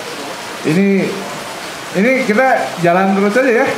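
Steady rain falls as a broadband hiss throughout while someone speaks in Indonesian over it.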